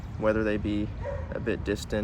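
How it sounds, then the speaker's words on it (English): Dogs bark and yip in short, choppy bursts that overlap a man's speech, the barks sounding fairly close and repeating several times in quick succession. "Sorry for the dogs."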